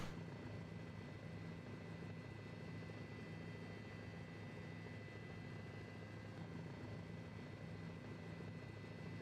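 A helicopter in Flight Simulator 2004 near a Las Vegas medical center helipad drones with a steady, even rotor and engine hum, continuous and fairly faint, with no voices.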